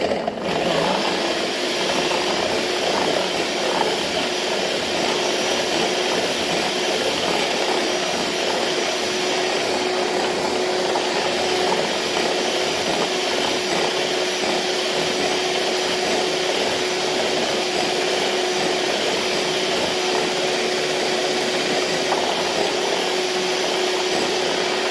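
An electric mixer beats cake batter with sifted flour, refined sugar and spices for a carrot, orange and chocolate entremet, giving a continuous steady motor whine with a constant hum that runs unbroken throughout.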